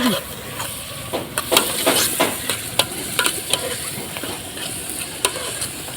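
Chicken curry stirred in a pan with a spoon, scraping and clinking in irregular strokes over a soft, continuous sizzle, close and fairly loud.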